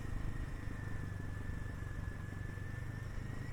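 A motorcycle engine drones steadily during a ride along a scenic monsoon road near Charkhole in North Bengal, a continuous hum mixed with wind rush and no talking.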